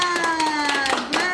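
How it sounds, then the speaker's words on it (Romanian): Small group clapping hands at a family celebration, quick uneven claps with voices heard over them. "Aplauze cu toții!"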